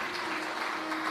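Audience at a religious discourse gathering claps in steady, dense applause, moderately quiet and continuous throughout the moment.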